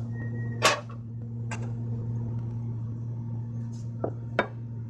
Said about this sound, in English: I'm going to start picking up all the pots and pans.